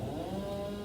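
A chainsaw runs nearby in a steady droning whine with a buzzing engine tone, continuous and moderately loud with no speech.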